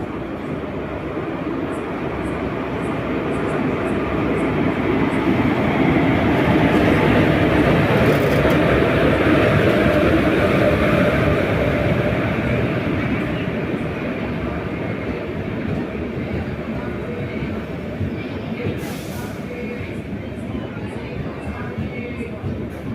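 Tirunelveli-Tenkasi-Mettupalayam express train at Tenkasi junction, a loud continuous rumble of rolling wagons with faint rhythmic clicks, swelling then easing over a long stretch.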